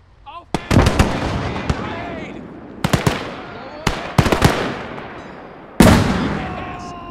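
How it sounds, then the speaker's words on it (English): Grenade explosions and gunfire from the Call to Arms Gates of Hell World War II game, a series of sharp loud blasts and bursts in clusters with decaying rumble, while soldier voices shout over the battle. "Grenade! Get down!"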